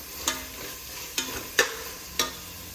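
A spinach and soybean pulao mixture roasts in a pan as a spoon scrapes through it four times, each sharp stir ringing out over a soft, low sizzle.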